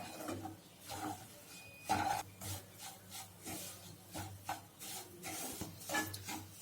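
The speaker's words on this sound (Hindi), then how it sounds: "अभी हम इसके अंदर सूजी डाल देंगे और इसे हमें लो टू मीडियम फ्लेम पर लगातार भूनना है।" Semolina roasting in ghee in a kadhai over a low to medium flame is stirred continuously, giving soft, repeated scraping and rubbing strokes against the pan in an irregular rhythm, faint and close, with no voices.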